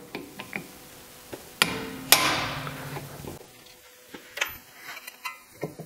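A hammer strikes a hand impact driver set in countersunk screws on a Porsche Boxster brake rotor, giving a couple of sharp metallic blows with ringing decay amid smaller tool clinks and taps.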